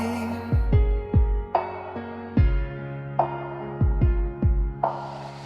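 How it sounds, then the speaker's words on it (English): Deep, booming thumps come in pairs at an uneven pace, loud and close, each followed by a brief pause, with a steady low hum underneath. "No crowd, no noise, just heartbeat."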